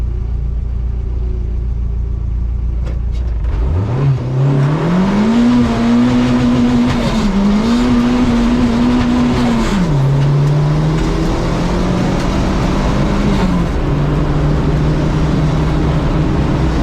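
A Nissan Micra race car in qualifying starts from idle and accelerates hard, its engine rising and holding loud and close through several gear changes, with a drop in revs near the end.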